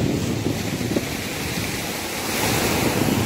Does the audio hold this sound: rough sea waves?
yes